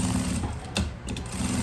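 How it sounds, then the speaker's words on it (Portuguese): A sewing machine stitches a curved seam on a makeup bag, a close, steady mechanical hum with a brief stop and restart partway through. "Observem pelo barulhinho da máquina que eu sempre costuro na curva"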